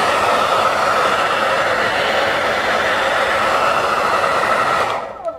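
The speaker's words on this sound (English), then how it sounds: "You can use a hairdryer, totally fine." A hair dryer blows steadily at close range to dry and warm a surface during a wrapping job, a continuous broadband whoosh that holds even for about five seconds before being switched off.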